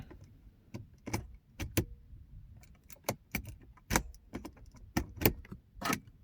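On a Mercedes-Benz W210, inserting a working key makes the ignition unlock, heard as a series of sharp metallic clicks and key jangles, close and quiet with gaps of silence between them.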